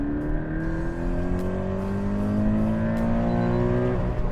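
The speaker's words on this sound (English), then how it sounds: "This one really loves to rev." A Toyota Corolla AE86 engine revs steadily, its tone climbing slowly and continuously, heard close and loud with no talking.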